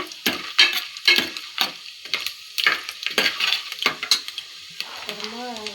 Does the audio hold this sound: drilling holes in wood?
no